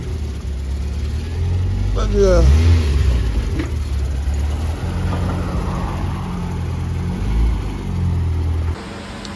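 Nissan Sabre race car with a VVL head revving on dyno rollers, the engine rising and falling loudly and close under a running mechanical drone, with people talking over it.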